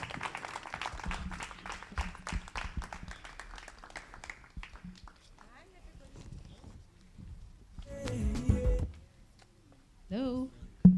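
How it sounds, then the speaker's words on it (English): An audience at a dialogue event claps in a scattered round of applause that fades out after about four seconds, followed by handling noises and brief voices. "let's give them a round of applause"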